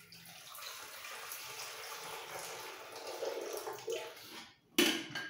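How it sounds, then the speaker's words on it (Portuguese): Water poured into a coffee maker's reservoir, a continuous close splashing stream that builds and ends in a short louder splash and a few trickles. "coloco a água aqui."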